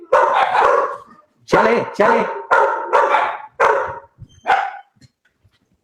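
A house dog barks in a rapid series of loud, close barks outside a home, with short gaps between them, while a voice speaks briefly.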